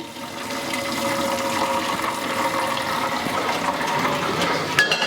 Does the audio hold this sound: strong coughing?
no